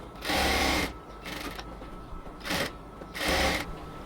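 Sewing machine stitching a cotton palazzo leg runs in three or four short bursts, each about half a second, with brief pauses between, close and steady.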